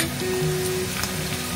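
Chopped onion fries in a pan for a kantoli (spiny gourd) bhaji, with a continuous, fairly loud close sizzle and a faint steady hum beneath it, no voices.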